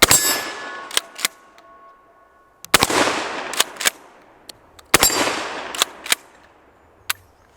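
A Dickinson Marine 12 gauge pump shotgun is racked and loaded with 2 3/4 inch double-aught buckshot, giving sharp metallic clacks and clangs in several separated bursts, close and loud with no talking.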